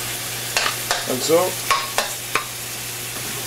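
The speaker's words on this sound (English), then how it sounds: "let the garlic do its magic in the oil, like so." Garlic sizzles in hot oil left from cooked meat, a steady bright hiss with a few sharp clicks and a short tonal squeak, while someone speaks briefly over it.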